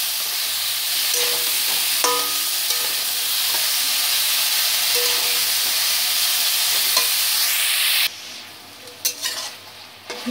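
Ridge gourd and potato curry sizzles in a pan while being stirred, a steady close frying hiss with occasional utensil scrapes and clicks; near the end the sizzle drops away, leaving scattered knocks.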